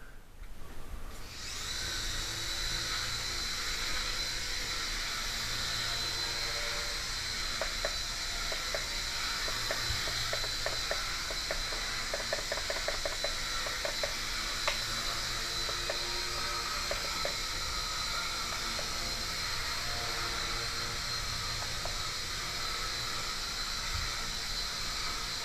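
An Air Hogs Heli Twister toy helicopter hovers with a constant high-pitched rotor whine, a close, buzzy motor sound sustained for the whole stretch with faint clicking mechanical rattles in the middle.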